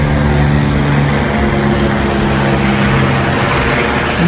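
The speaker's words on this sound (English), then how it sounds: "let's wait for the helicopter" A helicopter passes overhead as a loud, steady rotor and engine drone with a low throbbing hum that holds throughout, with no voices.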